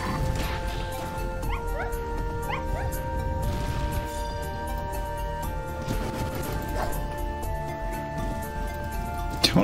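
A dog enemy in the video game Spiral Knights gives several short, high yips and whimpers over steady game music, with a few thuds of combat mixed in.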